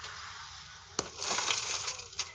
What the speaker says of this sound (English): So she's breaking the window in the corner. She's using the rescue escape tool.